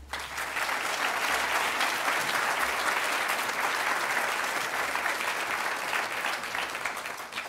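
Audience at a transportation summit applauding to welcome speaker Taras Grescoe, dense sustained clapping from a sizable crowd throughout, loud and even, with no talk over it.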